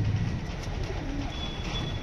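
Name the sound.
pigeons cooing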